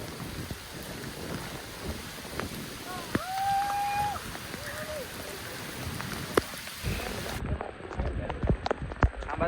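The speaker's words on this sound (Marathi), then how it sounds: "जरासा जोरातच पाऊस चालू आहे" Heavy monsoon rain pours during a trek at Savlya Ghat in Tamhini, a dense, steady hiss of falling water close around the listener, broken by scattered drops and a few brief tonal sounds.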